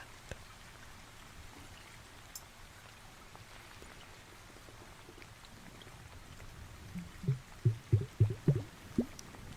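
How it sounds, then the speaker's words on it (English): Soft sloshing and gurgling of a water-filled bauble being handled up close, faint at first, then a run of gentle rhythmic liquid pulses near the end. "I'm gonna get the water baubles back out."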